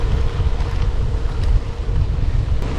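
Steady low rumble of wind buffeting the microphone while cycling into a headwind through central Victoria, continuous and fairly loud with no talking.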